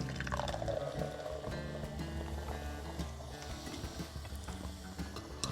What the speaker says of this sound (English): we're just going to pour some of your Sprite in